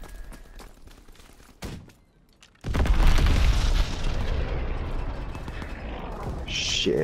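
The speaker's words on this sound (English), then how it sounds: "Enemy bomb incoming." Bomb explosions in the World War II shooter game Call of Duty WW2: a sudden loud, deep boom that gives way to a sustained, heavy rumbling roar, preceded by quieter game noise and a brief thud.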